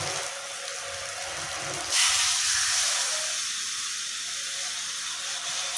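Water is poured into a pan of well-fried masala for a katla fish head and potato curry, giving a sudden loud steaming hiss that bursts up and then settles into a steady, slowly fading sizzle.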